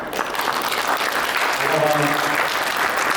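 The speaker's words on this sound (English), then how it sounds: "please give another warm round of applause to Chef Alan Wong." Warm audience applause for Chef Alan Wong at a public food show discussion in Honolulu, dense steady clapping throughout with a voice briefly audible partway through.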